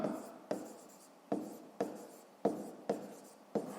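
Pen strokes on paper while working a 5th-grade maths problem: seven sharp scratchy writing bursts, each starting with a crisp onset and trailing off, fairly close and quiet, with no talking.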